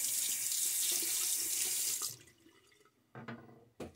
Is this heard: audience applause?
no